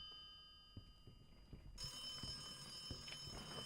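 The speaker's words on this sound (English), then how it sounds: "the phone's ringing right here" A telephone rings inside the video game The Occupation, a steady electronic bell tone that starts partway through and carries on over faint background clicks and footsteps.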